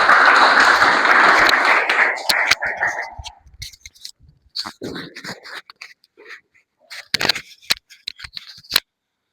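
Audience applause at a Toastmasters club meeting for a speech evaluator: a short burst of dense clapping that fades within about three seconds, followed by scattered rustles and clicks.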